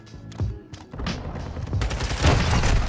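Gunfire from a Call of Duty match with a sniper rifle: several sharp booming shots and thuds, then dense overlapping blasts build into a loud, sustained barrage.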